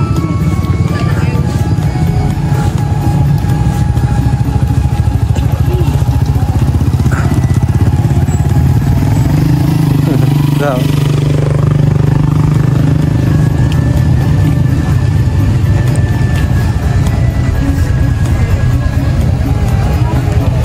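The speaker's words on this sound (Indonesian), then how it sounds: "di pinggir-pinggir jalan dipenuhi dengan motor-motor para pengunjung ya teman-teman" Motorcycles crowd the roadside of a packed pre-Lebaran border market between Magelang and Kulon Progo, their engines a steady low rumble beneath a thick, continuous hubbub of shoppers talking.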